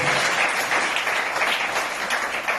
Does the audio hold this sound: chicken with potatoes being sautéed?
no